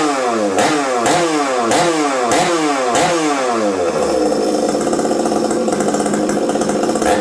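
A ported 371xp chainsaw engine fires back up and revs hard several times in quick succession, then settles into a steady, loud, buzzing run, close by with no talking.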